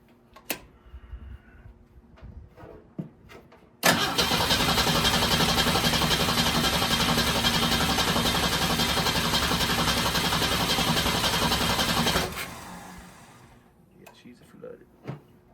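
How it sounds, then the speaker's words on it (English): A flooded carbureted engine with a rebuilt Carter one-barrel carb, sprayed with carburetor cleaner, cranks loudly and continuously for about eight seconds, with quieter shop sounds before and after. "So maybe we'll just keep cranking it, see if we can pull some of that through there"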